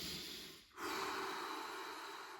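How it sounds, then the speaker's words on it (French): A deep breath taken during a stretching routine for lower back pain: a soft, steady rush of air that dips briefly, then swells into a fuller, sustained exhale, close and alone without talk. "grande respiration"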